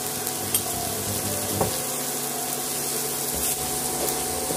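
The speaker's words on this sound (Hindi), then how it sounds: "अब इसे चलाते हुए मसाला को एक दो मिनट भून लेंगे।" Spices for egg bhurji stirring and frying in a pan, a continuous soft sizzle with a few sharp scraping clicks of the spoon, heard close with no talking.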